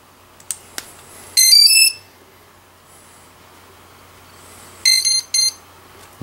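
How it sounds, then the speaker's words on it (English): Electronic speed controller for a radio-controlled model sounds a series of short, high-pitched programming beeps in two bursts over a quiet background, with a couple of faint clicks before them. "We'll hear the beeps for program mode"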